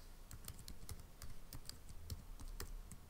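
Steady, quick clicking of keys on a computer keyboard, close and fairly quiet, with no voices.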